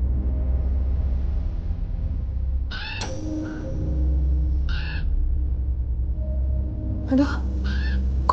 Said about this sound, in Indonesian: Ada suara burung gagak ya.